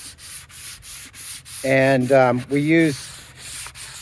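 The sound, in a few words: hand sanding painted cabinet doors with sandpaper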